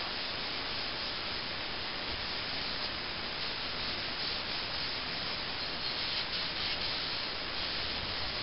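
Linseed oil being rubbed into wooden knitting needles by hand, a steady close, dense rubbing hiss that runs unbroken and evenly loud throughout.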